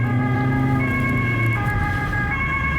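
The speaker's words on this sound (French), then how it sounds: "il y a l'ambulance qui arrive" Ambulance siren on a police call in Geneva, a steady two-tone wail holding loud and close for the whole stretch over a low engine rumble, with no talking.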